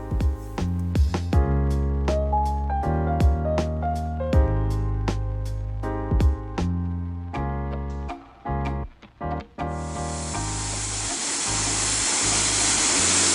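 Car wash gear spraying water and foam over a car, a steady loud hissing spray that builds to a bright continuous rush near the end, with tonal music playing over much of it.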